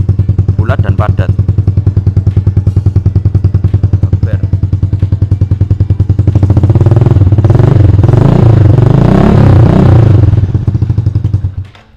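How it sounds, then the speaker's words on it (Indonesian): Close, loud Yamaha Jupiter Z1 fitted with a budget racing exhaust and 38 mm inlet, idling with a thick throb before revving up into a rougher, louder roar, then dropping off and cutting out at the end. "Nah jadi seperti itulah suara knalpot racingnya ini ya."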